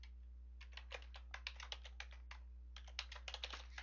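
Code being typed on a computer keyboard: quick, irregular bursts of light key clicks close by, pausing briefly around the middle before the typing resumes, over a faint steady hum.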